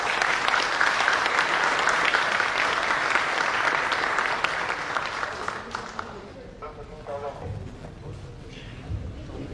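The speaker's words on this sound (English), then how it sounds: "let us start this beautiful event with a massive round of applause" A big round of applause opens the IRMA Alumni Association CEO Conclave 2022, with dense, loud clapping from a gathered audience that thins out after about five seconds before a voice speaks into the quieter room.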